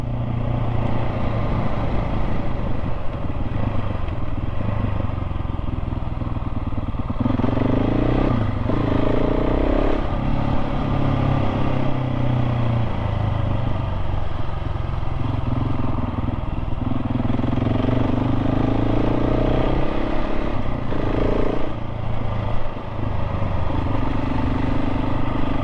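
A KTM 690 SMC-R motorcycle rides along a rough road with gravel and potholes. Its engine drones loud and steady close by, with shifts in revving and some clattering, and no one talks.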